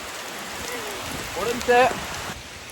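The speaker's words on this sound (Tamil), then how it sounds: "இப்போ மழை வேறு பெய்யுது" Rain falling steadily on a forest road in South Goa, a soft continuous patter under someone speaking briefly partway through.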